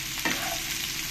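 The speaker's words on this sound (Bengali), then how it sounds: "পেঁয়াজগুলো দিয়ে দেবো, দিয়ে ভালো করে একসঙ্গে ফ্রাই করে নেব" Chopped onions sizzle steadily in a hot pan for mushroom pulao, with a brief stir partway through and continuous frying hiss.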